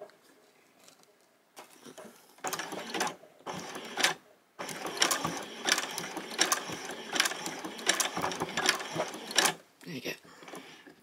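A sewing machine putting a few tiny stitches into a hair bobble or dress decoration, short bursts of fast mechanical whirring and clatter close by with brief stops between runs, and a voice talks over it.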